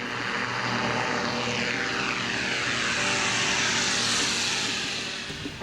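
An AirCam twin-engine light airplane with two 912S engines drones past, its propeller hum steady and loud throughout, with a rising then falling pitch as it passes close by before fading slightly at the end.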